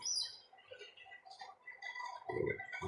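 A tame pet pigeon on a small farm, raised by hand from a chick, gives a short, low burst of sound near the end, over a faint background of scattered chirps and ticks.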